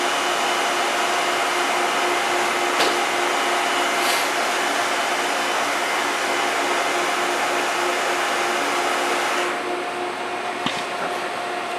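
A Japax wire EDM machine runs with power to the wire, a steady loud hum and airy whine with faint tonal whistles, broken by a couple of brief clicks and a slight drop in level near the end.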